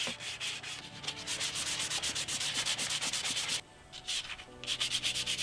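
Rapid back-and-forth strokes of sandpaper rubbing on wooden furniture legs, steady and close, pausing briefly before the scratchy rhythm resumes.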